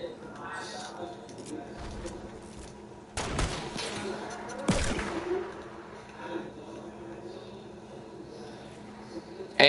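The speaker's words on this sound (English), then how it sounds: "Jose, you're peeking hard and we're getting shot at" Gunfire during a video game shootout: a few loud bursts of rapid shots stand out over a low, steady game background, with quieter scattered pops between them.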